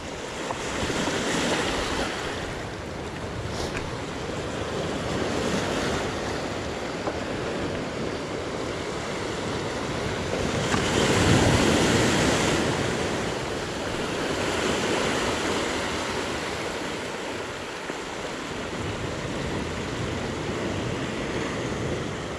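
Sea waves break and wash continuously onto the shore on a Portuguese fishing coast, a loud steady roar of surf with wind noise, swelling slightly midway, no voices.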